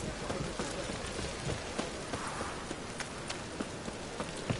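Steady rain patters and hisses in a continuous wash, with faint scattered thuds through it and no voices.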